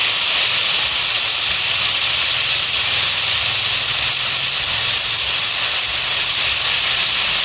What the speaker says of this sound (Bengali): এবার আমরা এটাকে ঢাকনা লাগিয়ে নিচ্ছি সিটি মারার জন্যে।